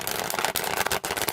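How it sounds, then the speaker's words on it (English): Tarocco Neoclassico tarot cards, Milano 1810 deck, riffled and shuffled face up in quick, dense bursts of papery flutter with brief pauses, close and fairly loud. "I think this one shuffles best with the cards facing up."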